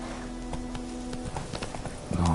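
Hooves of the horse Roach in The Witcher 3 clip-clop in a quick, even rhythm at close range, with a louder burst of game sound near the end and no speech over it.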